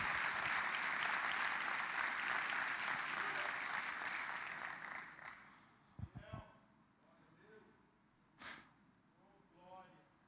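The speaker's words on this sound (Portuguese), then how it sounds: "Dê um aplauso ao Senhor." A church congregation applauds during a family celebration service, several seconds of loud, dense clapping that fades out, followed by quiet breaths and scattered small sounds.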